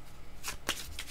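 Playing cards being shuffled by hand, a couple of quick close riffles and flicks in a quiet room with no talk.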